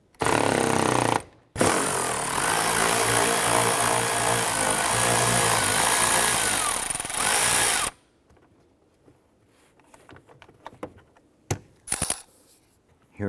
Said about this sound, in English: Let's go ahead, loosen and remove these bolts.